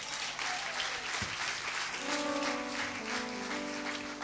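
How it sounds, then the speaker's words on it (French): A church congregation applauding the Lord, steady dense clapping from many hands filling the room, with faint voices and a sustained organ-like tone entering partway through. "Je veux que tu acclames le Seigneur."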